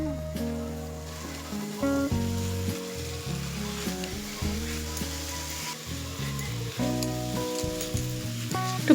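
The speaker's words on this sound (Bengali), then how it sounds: "এবার একটু নেড়ে দেব।" Jorda semai, sweet vermicelli, sizzles in a pan as it is stirred. A soft continuous crackle and scraping sits close but fairly quiet beneath prominent background music.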